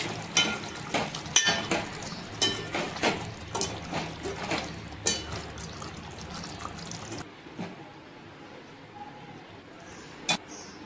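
A spoon stirs curry in a pot right after fresh coriander is added. Rhythmic scraping and clinking strokes come close and clear at first, then ease into quieter stirring with an occasional knock.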